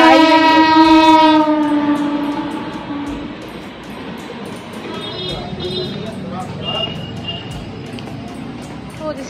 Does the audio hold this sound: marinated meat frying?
no